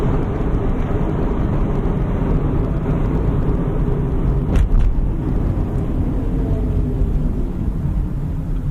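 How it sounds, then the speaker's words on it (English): An electric car slowing under regenerative braking on an access road, steady road and cabin rumble carrying on loud and even throughout, with a brief sharper swell near the middle and no talking. "I'm going to engage regenerative braking."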